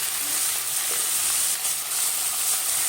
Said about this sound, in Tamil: தக்காளியை நல்லா வதக்கிக்கோங்க.